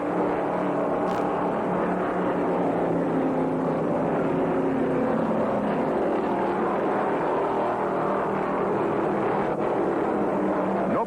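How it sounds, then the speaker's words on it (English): Stock cars race at the 1973 Daytona 500, a continuous, loud, dense engine roar from the pack with no break across the whole stretch. "Now Foyt and Van Diver move up, and suddenly it's a 4-pack looking for daylight."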